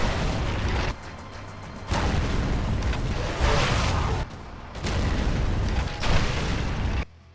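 In the video game Zombie Driver, a tank-like vehicle with unlimited ammo fires through a city, producing a dense run of heavy booming blasts in repeated bursts, loud and continuous with brief dips between volleys.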